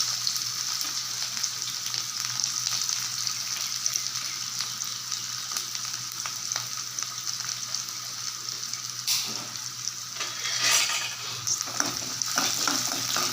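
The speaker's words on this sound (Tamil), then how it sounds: "இதுவும் பொரியட்டும் நல்லா பொரிஞ்சிட்டு வெங்காயம் போட்டுக்கலாம்" Cinnamon and cloves fry steadily in hot oil for a Tamil vegetable dish, a continuous close crackling sizzle with occasional stirring clatter, no talk.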